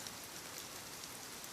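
Rain falls outside beyond an open doorway, heard as a faint, even hiss of drops that continues without a break.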